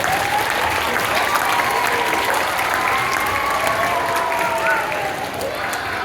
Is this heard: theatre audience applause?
yes